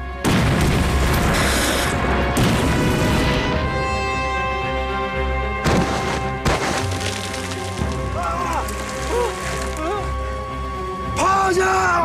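Artillery shells exploding in a wartime battle scene, with several sharp booms and splintering cracks scattered through the stretch, mixed under shouting voices and dramatic music.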